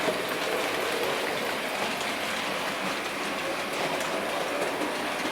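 Bachmann model train locomotives run on an analog layout track, producing a continuous, even rumble with light rail clatter. The sound is moderately quiet and has no pauses.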